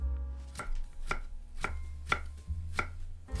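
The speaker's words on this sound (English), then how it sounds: "For the vegetables, slice into small sticks. 2 carrots" Knife chopping carrots into small sticks on a cutting board: six evenly spaced, crisp chops, close and clear, over a steady low hum, with no talking.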